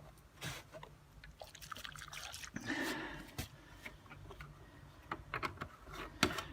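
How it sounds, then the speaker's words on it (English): Degreaser liquid is poured in a thin trickle while a Honda 13hp pressure washer is being refurbished, quiet and close, with faint ticks and small clicks around it. "so I'll pour a little bit more in"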